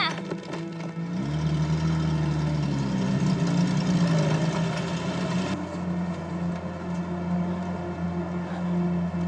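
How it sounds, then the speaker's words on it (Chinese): A motorcycle engine idles with a steady, low, even throb that holds for the whole stretch, close and continuous, with a slight shift in tone partway through. "你手在方向盘来回拧，这是摩托车呀"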